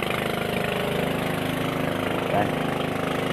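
A double-engine fishing boat runs steadily, its motor droning loud and constant in a close, unbroken hum with no pauses.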